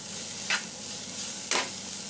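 Cluster beans tipped into softened tomatoes frying in a pan, a continuous close sizzle broken by two brief scraping stirs about a second apart, with no talking.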